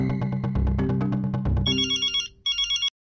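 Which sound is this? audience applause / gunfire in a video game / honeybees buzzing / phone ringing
phone ringing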